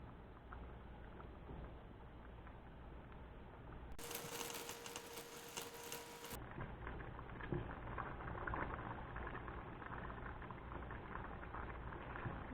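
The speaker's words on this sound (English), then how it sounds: "Still want it to be boiling and bubbling just a little bit." A pot of creamy chicken gnocchi soup boiling and bubbling on the stove, a soft, steady patter of small bubbles heard close and quiet, with no talking.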